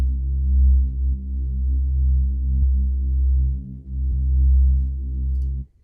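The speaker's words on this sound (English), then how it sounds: "I also have a really deep sub bass" Deep, sustained sub bass from a heavy melodic dubstep track, a low throbbing drone that swells and dips in long notes, loud and alone with no voices.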